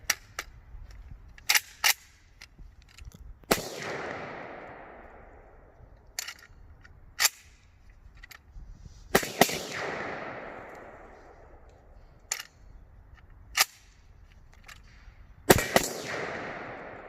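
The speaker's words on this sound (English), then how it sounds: "I'm getting 2 shots and then it's choking" A Zastava ZPAP85 AK pistol chambered in 5.56x45mm firing with a magazine that chokes after two shots, sharp loud outdoor gunshots in short pairs and singles with long echoing decays, separated by pauses and faint handling clicks.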